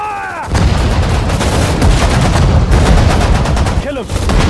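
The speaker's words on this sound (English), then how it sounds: "Fire at the target." Soldiers firing in the game Sudden Strike 4, a desert war battle: loud, close volleys of rifle and machine-gun fire mixed with heavy booms, continuous for several seconds, with a short voice near the end.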